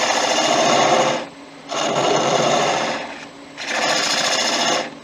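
Wood lathe turning an end-grain bowl while a gouge cuts away the remaining tenon, three loud bursts of rough scraping and chattering cut noise separated by short pauses with the motor humming underneath.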